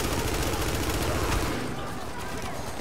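Shotgun fire in Tom Clancy's The Division, a dense burst of loud overlapping blasts for the first second and a half, then fading to a rougher, quieter tail of shots and noise.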